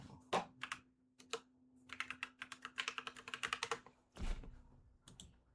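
Keys clatter on a computer keyboard in quick irregular bursts, close and crisp, with short pauses between runs of typing and a faint steady hum beneath.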